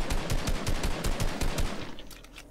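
Rapid automatic gunfire from a player shooting in a video game, a steady close rattle of quick repeated shots that thins out toward the end, with no talking.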